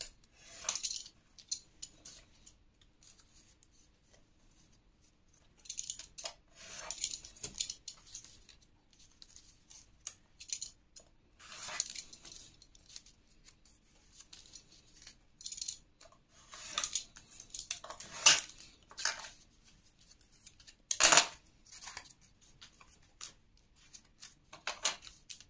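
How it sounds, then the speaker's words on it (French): Scissors snipping scrapbook paper at the corners in short, scattered bursts of crisp cuts separated by quiet pauses, faint and close. "Et vous allez couper ici dans les angles."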